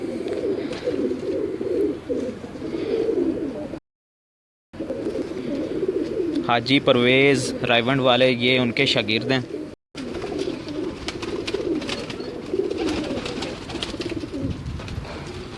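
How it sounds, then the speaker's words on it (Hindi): Imamdini pigeons coo in soft repeated throaty rolls, heard clearly in the middle of the clip beneath and between someone talking nearby, with brief gaps of silence. "ये इमामदीनी कबूतर हैं बाबर साहब के।"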